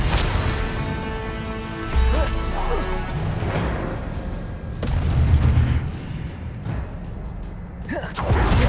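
Blasting spell explosions from a Hogwarts Legacy duel: several heavy booms and crashes land in a fast sequence over a dense, continuous bed of battle effects and music.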